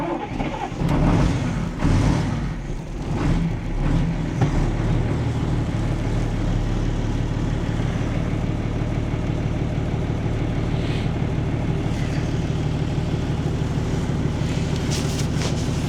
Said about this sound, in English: Okay, let's go and fire the engine up.